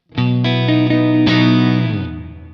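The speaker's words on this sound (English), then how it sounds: "I've got both my delay and reverb on" A single sustained electric guitar chord played through a Kemper amp with delay and reverb switched on, ringing full and bright with a few re-struck notes before trailing off into a smooth reverb tail.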